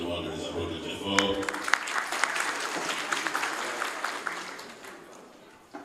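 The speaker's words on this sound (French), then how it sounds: "je vous demande de les applaudir très fort" Applause at an official equipment handover ceremony, with sustained audience clapping rising after an opening voice and continuing at moderate strength before tapering off.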